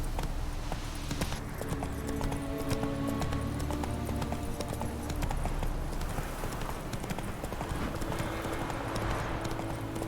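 Horse hooves gallop in The Witcher 3, a dense, continuous clip-clop pounding that stays loud and steady throughout, over a layer of game ambience.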